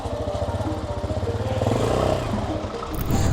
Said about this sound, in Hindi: गियर में ये बाइक पहला गियर आगे, बाकी पीछे लगेंगे सारे